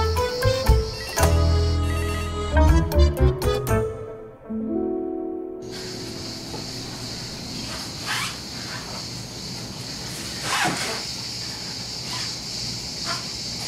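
A phone rings in loud repeated electronic bursts for a few seconds, then stops, leaving a quieter room with faint background noise.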